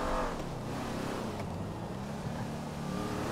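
A car engine hums continuously while driving in Grand Theft Auto V, a steady moderate roar that stays fairly even from start to finish with no talk over it.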